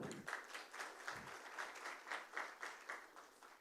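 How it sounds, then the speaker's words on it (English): Faint, distant applause with a rough rhythmic pulse, steady clapping from a conference audience without anyone speaking. "Can we have a huge round of applause for him"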